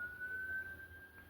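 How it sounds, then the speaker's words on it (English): Faintly in the distance, a siren holds a thin, steady wail that drifts slightly in pitch over a low background hum. "The siren's confusing me."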